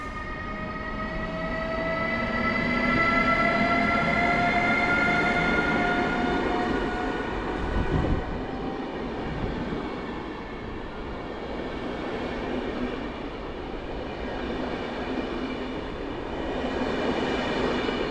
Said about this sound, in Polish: Pociąg Panorama rusza punktualnie.